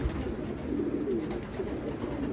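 Low, throaty cooing of racing pigeons rolls on steadily, several birds murmuring close together with a soft rustle behind.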